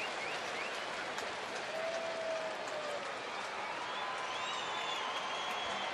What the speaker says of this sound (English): Or perhaps that's a mock cheer.